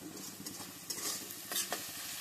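Chopped onion and garlic fry in a pan, a soft, steady sizzle with a few brief scraping stirs of a utensil rising above it; fairly quiet and close, no talking.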